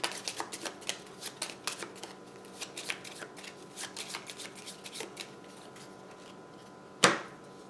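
Rapid riffle shuffles of playing cards during a solo game of Valley of the Kings, several quick flutters in a row, then a single sharp snap of the deck near the end.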